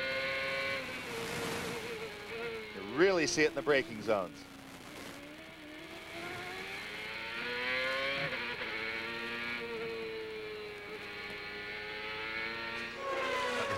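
CART open-wheel race cars at Laguna Seca in 2002, Christian Fittipaldi's among them, drone steadily with shifting engine pitch under continuous commentary, a brief burst of rising and falling revs standing out near the start.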